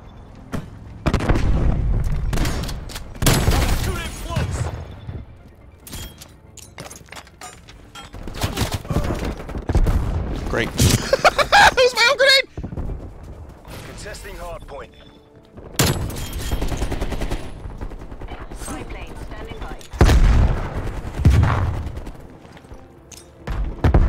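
Gunfire and grenade explosions from a Hardpoint match in Call of Duty: Black Ops Cold War, loud repeated bursts and booms throughout with dense, busy game audio.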